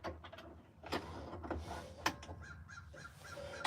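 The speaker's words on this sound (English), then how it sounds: "Yeah, I hear your bird." A crow caws a few times outdoors, moderately distant, amid faint knocks and background noise.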